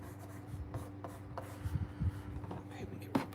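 Pencil eraser rubbing across paper during a live drawing, soft quiet scrubbing strokes in short bursts, close and low in level.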